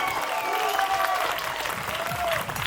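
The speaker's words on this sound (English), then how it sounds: "Can I just get another huge round of applause for all the students you just saw?" Sustained, dense applause from a large student fashion show matinee audience fills the hall, steady and loud throughout, with faint whistles or cheers riding on top.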